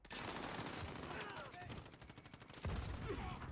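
Rapid gunfire bursts in Call of Duty Modern Warfare, fairly faint and mixed with game noise and some voice, ending in a louder thump.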